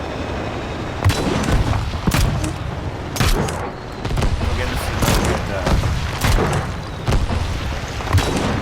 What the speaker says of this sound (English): Alt fire again is for your cannon.